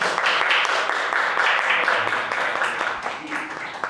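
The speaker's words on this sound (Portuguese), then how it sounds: "salve de palmas aí para todos vocês que estão aqui" Applause from an audience at a panel discussion, a dense, steady patter of many hands clapping that fills the full four seconds without a break.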